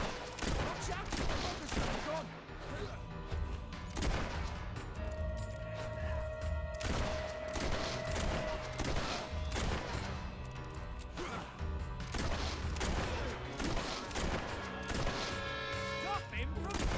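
Gunfire and combat clatter in the video game Fable 3 crack in repeated bursts over about seventeen seconds, mixed with thuds and a busy game soundscape at moderate loudness.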